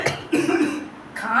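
One person gives a short cough and then another moments later, close to the microphone, with murmured talk and faint voice sounds around them.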